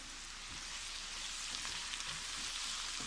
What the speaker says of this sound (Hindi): थोड़ी देर के लिए फ्राई करेंगे कि टमाटर हमारे गल जाए।